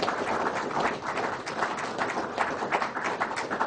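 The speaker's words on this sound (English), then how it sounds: "So let's give Pat and Don a round of applause." An audience applauds two guest speakers at a legal panel event, a steady, dense wash of many hands clapping that carries evenly from start to finish with no voices over it.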